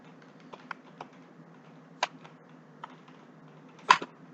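Typing on a computer keyboard while setting up a Laravel test page: sparse, light key clicks scattered over a faint steady hum, with one louder keystroke near the end and no talking.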